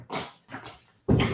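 A small dog barks and yips nearby in a home, giving three short bursts, the last one louder and fuller.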